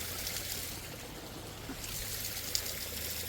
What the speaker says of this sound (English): A small waterfall.